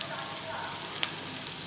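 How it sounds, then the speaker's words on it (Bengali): Chopped chilli, onion and garlic fry over raised heat in a pan, giving a faint, even sizzle with an occasional light stirring tick. "ভালো করে ভেজে নেব"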